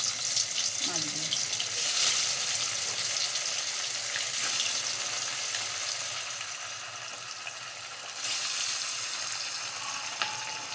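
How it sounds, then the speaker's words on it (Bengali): Fish frying in hot oil in a wok, a steady hissing sizzle running throughout with a few louder spits and crackles, close by, with faint speech in the background. "মাছগুলোকে লাল লাল করে ভেজে নেব"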